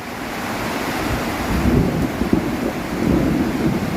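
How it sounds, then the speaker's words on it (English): Low rumbling thunder rolls through a heavy storm, a loud broad roar swelling and fading amid strong wind noise, with no voices. "Can you hear the thunder?"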